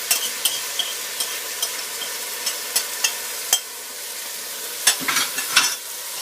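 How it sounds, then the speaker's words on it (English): Green Thai curry paste sizzles softly in a pan while a utensil stirs it, giving scattered scraping clicks and taps over a quiet background fry. "So I'm just going to stir that in for 30 seconds just to release the flavours"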